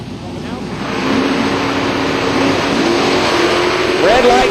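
A 1995 Ford Mustang and a 1991 Pontiac Grand Am at a drag strip, engines growing louder and rising in pitch from a steady roar as they accelerate, with a voice talking over the noise.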